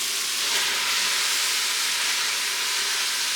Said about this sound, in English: Okay, let's throw the shrimp in now.